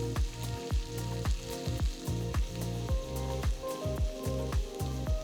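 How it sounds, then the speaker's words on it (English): Thinly sliced onions sauté in a pan with bay leaves and cumin for a raw jackfruit curry, giving a steady close sizzle with regular rhythmic pulses throughout. "Saute the onions for about 5 minutes."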